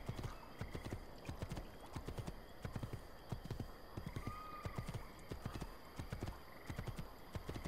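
Horse hooves clip-clop in Assassin's Creed 2 on a mountain path, a quick, steady, close trot that runs continuously with no talking over it.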